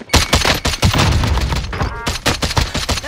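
Dense, loud gunfire in the Call of Duty Warzone video game with rapid overlapping shots close by; a frag grenade blast may sit within the continuous firing, and there is no clear speech.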